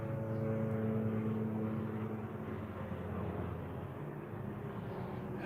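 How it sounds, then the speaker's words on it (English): A low-flying helicopter passes over a forested area, a steady droning rotor and engine roar that stays loud and close throughout, with no voices. "Jeez, he's a bit low, isn't he?"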